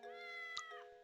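A cat named Claudia meows once in the Professor Layton and the Curious Village video game, a clear, drawn-out harmonic mew over a steady musical background, with a sharp click partway through.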